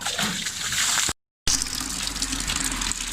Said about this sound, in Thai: พี่อัดกำลังล้างวงอยู่